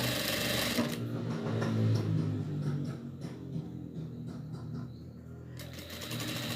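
A sewing machine stitches fabric for a cloth doll's hat, its motor running in a steady close whir with rapid needle ticks and only slight changes in pace.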